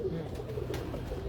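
Pigeons of a Teddy Jonsray breed cooing softly in a short, low murmuring burst, faint and close amid light background noise.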